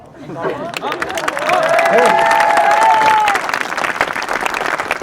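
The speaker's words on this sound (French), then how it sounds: "après, j'ai applaudissements là." Audience applause and cheering from a crowd at a talk on skepticism, building to a loud sustained peak midway before tapering off, with a few voices calling out over the clapping.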